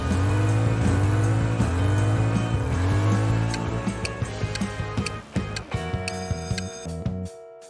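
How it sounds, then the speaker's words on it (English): Mitsubishi 3000GT VR4 with its 3.0-liter twin-turbo V6, a few rising engine revs followed by a run of ticking and clicking sounds, with no talk. "It's the Mitsubishi 3000 GT VR4"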